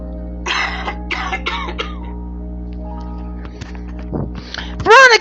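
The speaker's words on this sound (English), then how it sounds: "coughing up water" A series of wet, sputtering coughs and throat-clearing bursts, close by, ending in a louder choking gasp.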